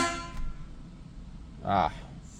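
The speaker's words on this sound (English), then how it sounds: "Horns work." Car horn of a 1966 Oldsmobile Delta 88 sounds in one short, loud blast close by, after a briefer tonal honk at the start, with faint background noise between.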